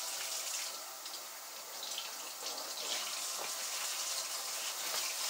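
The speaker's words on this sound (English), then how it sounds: "I'm going to finish up these dishes." A kitchen faucet runs steadily while dishes are washed, a continuous hissing rush of tap water with slight splashy variations, moderately close and heard without talk.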